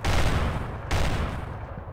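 Gunfire in the Rust video game, with two players shooting at each other nearby: two loud, dense bursts of shots, the second starting just under a second after the first, with no talking.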